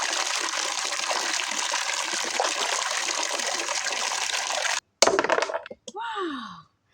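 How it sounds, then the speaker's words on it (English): Water splashes and runs steadily as a nhanga pumpkin is washed, a loud close wash that stops abruptly near the end, followed by brief clatter and a short spoken phrase. "I have to make sure that I wash this nhanga before anything else"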